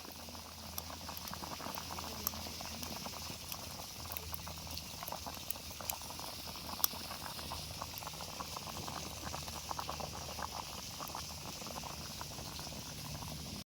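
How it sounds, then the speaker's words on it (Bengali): Potatoes boil in a pot outdoors at a picnic cooking spot, giving a steady, soft bubbling and pattering with small pops throughout. Fairly quiet and continuous, with no talking. "কি সুন্দর সিদ্ধ হচ্ছে"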